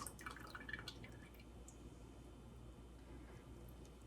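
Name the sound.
lye water poured into oils for making soap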